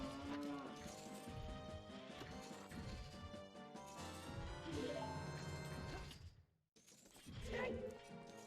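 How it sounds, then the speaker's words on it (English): A cartoonish cow moo plays as the hover boots item sound in an Ocarina of Time Randomizer race, repeated lowing calls over game music with a brief drop to near silence before the music resumes. "their hover boots are also the cow noise"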